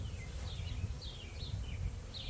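Bees buzz faintly as they fly in and out of a beehive being split, a soft continuous hum with a few brief higher chirps, quiet and somewhat distant.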